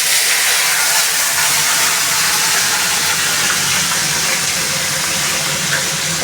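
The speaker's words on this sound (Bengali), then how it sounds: "পটলটা আমি ভালো করে ভেজে নেব।" Pointed gourd (potol) fries in hot oil with a loud, close, continuous hiss that holds steady throughout and has no talking over it.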